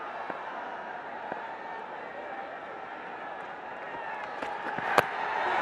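Stadium crowd at a Bangladesh Premier League T20 cricket match in Dhaka, a steady roar and murmur from a partly filled ground with a few sharp claps and shouts near the end, with voices talking over it.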